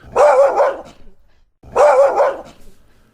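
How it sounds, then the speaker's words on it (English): A dog barks loudly twice, each bark a short burst of several rough yelps, with a brief pause between them. "he barks in a loud voice"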